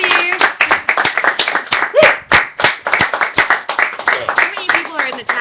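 A few people clapping close by with sharp, uneven hand claps, mixed with talking and cheerful voices in a small informal gathering.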